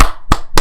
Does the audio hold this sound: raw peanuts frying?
no